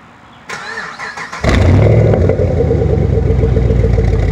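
A modified 2012 Camaro 2SS engine cranks with a few stuttering bursts, then catches and roars into a loud, rough, throaty idle that rumbles steadily close by.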